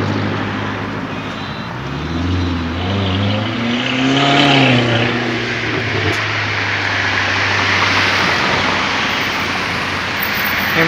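A Ferrari Portofino passes on a busy Mumbai street, its engine note swelling loud and close as it goes by, then fading into steady traffic noise.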